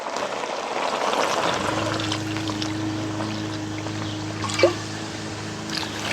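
Water poured into a simmering pot of dinengdeng with bamboo shoots and saluyot, a soft continuous trickle over a low steady hum, with a brief splash near the end.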